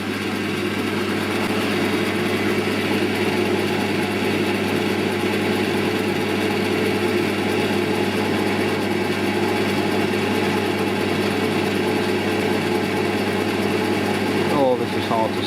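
A grinding wheel runs steadily while being trued, in a milling cutter regrinding job done without a cutter grinder, giving a loud continuous motor hum and whine that holds level throughout with only a brief change near the end.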